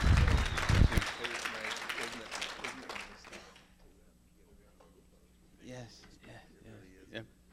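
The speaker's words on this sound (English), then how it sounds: "how about another round of applause for keeping this man" Audience applause at a college of auctioneering class auction, loud and dense at first with a voice talking over it, then thinning out and dying away after a few seconds into near silence.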